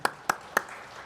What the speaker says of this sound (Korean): 우리 하나님 앞에 영광의 박수를 올려드리겠습니다.